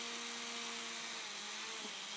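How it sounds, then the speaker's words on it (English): A Young Nails electric nail file drill runs steadily close by, a loud high whine with a constant tone that dips slightly near the end. "for this drill, what I did not like about it was that it was really loud"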